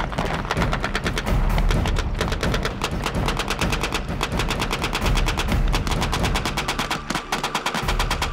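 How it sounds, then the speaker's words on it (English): A machine gun fires blanks during a WWII-style infantry training exercise, in loud, continuous rapid bursts of sharp reports that run almost without pause, with heavy thuds underneath. "Even though the weapons are only firing blanks, it's clear the machine gun controls the battle."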